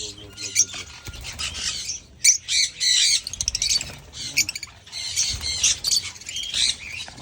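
Small lovebirds, including lutinos, squawk and chatter in sharp, shrill bursts, close by, with short pauses between flurries.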